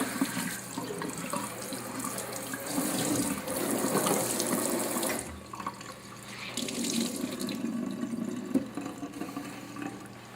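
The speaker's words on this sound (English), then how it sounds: "So now we're just going to rinse it down real good." Tap water runs steadily into a kitchen sink being rinsed after scrubbing and disinfecting with hydrogen peroxide, a continuous close splashing flow that dips briefly midway and then resumes.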